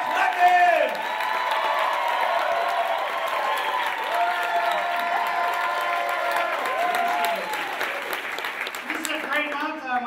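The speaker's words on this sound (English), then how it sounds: "Get clapping, get clapping, get clapping." A comedy club crowd claps and cheers to welcome a comedian onstage, sustained loud applause with whoops and shouts, while an amplified voice talks over it and the clapping trails off near the end.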